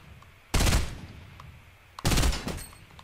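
Two loud burst-fire volleys from a purple three-round burst assault rifle in Fortnite, each a tight cluster of sharp shots, the second about a second and a half after the first, with no talking.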